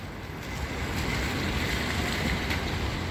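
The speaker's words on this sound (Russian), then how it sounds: "То ли из земли бьет ключ, то ли пробило трубу." Water gushes out of the ground, from either a spring or a burst pipe, and runs down a steep street near the Dry Bridge flea market in Tbilisi. It makes a steady, loud rushing hiss with no voices.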